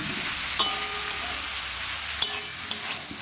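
A prawn curry with turmeric and spinach sizzles in a pan while being stirred, steady close frying hiss punctuated by three or four sharp spoon knocks and scrapes, with no speech.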